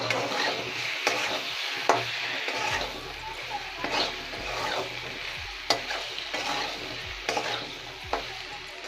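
A spoon repeatedly scrapes and stirs poppy seed paste with potatoes as it fries in a pan for alu posto, with rhythmic strokes and knocks over a constant sizzle.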